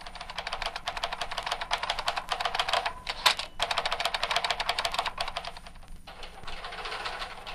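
Several typists pound away on typewriters in an office, a dense, continuous clatter of keystrokes with brief pauses, close and busy, with no voices.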